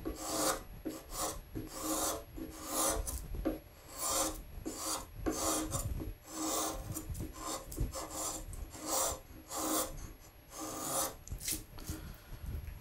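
A carving gouge cuts into wood in a rhythmic series of short rasping strokes, close and quiet, with no talking.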